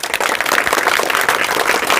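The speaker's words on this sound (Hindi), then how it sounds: "जितने भी भाई साहब यहाँ पर मेडल लेकर खड़े हुए हैं उन सभी के लिए एक ताली हो जाना" Crowd applause for medal-winning Bihar Board toppers standing on stage, a dense, steady wash of many hands clapping close by for about two seconds.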